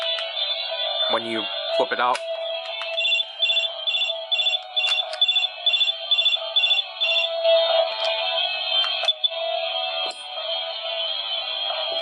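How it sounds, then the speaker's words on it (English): Electronic phone sound effects from a 2024 re-release Flame Dragon Summoner toy, a series of short repeated beeping tones and jingles played through a small speaker, with a person talking over them. "You can play the phone sounds too"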